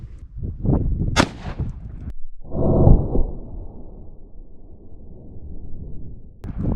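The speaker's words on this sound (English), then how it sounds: "we got a 357 Magnum jacketed hollow point. That's what we're gonna hit the helmet with next" A .357 Magnum 125-grain jacketed hollow point round fired at a ballistic helmet on a range: one sharp, loud gunshot followed by a booming decay, with earlier clatter and a second sharp report at the end.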